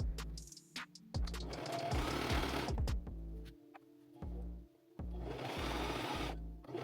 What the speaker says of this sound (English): We're gonna sew all that together on both sides.